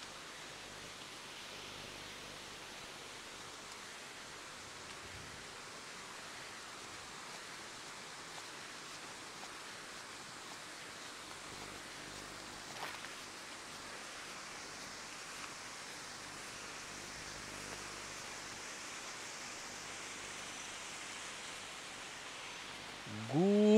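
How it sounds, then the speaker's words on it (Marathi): Steady broadband rush of a waterfall in a scenic natural setting, constant and moderately distant, heard alone with no talking, ending with a brief rising tone. "मला त्या धबधब्याचा आवाज पण ऐकायचा आहे."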